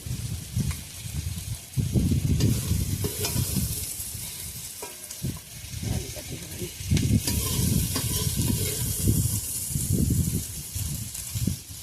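Tomato frying lightly in mustard oil in a pan for a Bengali fish recipe, a steady sizzle with soft stirring scrapes rising and falling throughout, fairly close and continuous.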